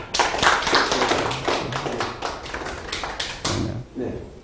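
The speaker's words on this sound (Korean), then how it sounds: "박수 한번 보내주시죠" Audience clapping at a lecture hall talk, a burst of many hands with distinct sharp claps standing out near the start, fading unevenly toward the end with a few thumps.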